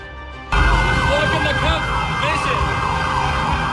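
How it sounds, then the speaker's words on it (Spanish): Emergency sirens wail through the streets during unrest, a loud rising and falling howl that kicks in abruptly and carries on continuously over low traffic rumble. "en las calles las sirenas suenan y el vandalismo acecha en las calles"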